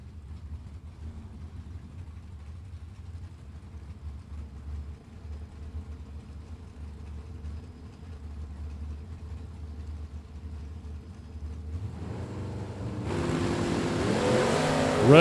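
A Camaro and a Chevy 2 drag racing at a Super Pro event, with low engines idling and burbling for a long stretch, then a sudden loud, bright surge of revving near the end as the cars launch.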